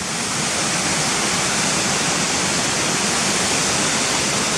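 Waterfalls at Gunnerside roar in a steady, dense, loud rush of falling water, close by and unbroken from start to finish, with no voices.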